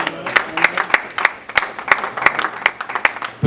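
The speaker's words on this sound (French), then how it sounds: "Est-ce que nous pouvons acclamer pour la parole de Dieu?" A church congregation applauds in steady, rhythmic clapping, loud and close, with crowd noise mixed in throughout.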